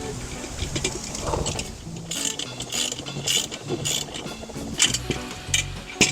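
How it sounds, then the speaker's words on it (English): Screws being tightened into a homemade grappling claw, a run of short ratcheting, clicking mechanical turns close by over a low background rumble, with no talking. "let's tighten these up."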